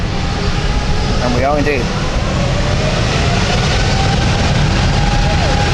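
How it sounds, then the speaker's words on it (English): A Helvetic airliner taking off from London City Airport for Zurich makes a loud, steady engine roar that fills the whole stretch, with a person briefly speaking over it. "I think we're going for an immediate takeoff here"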